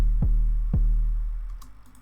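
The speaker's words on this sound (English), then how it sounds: "You've got the 808 stab," An unprocessed 808 stab bass from a drum-and-bass style track, two heavy pitch-dropping hits close together and then a fading low tail, loud and alone with no voices.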